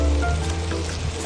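Fried shrimp with taro stolons (kochur loti) sizzles in a pan, producing a short, close, steady frying hiss with a low hum beneath and no talk.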